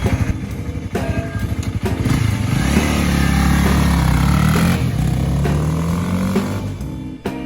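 Two Honda Rebel motorcycles, a 300 and a 500, ride on a countryside road, their engines loud and close with rising revs and steady droning throttle, no talking.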